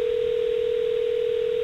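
A telephone dial tone after a dropped call, one steady unbroken tone holding at an even level throughout, alone with no talking.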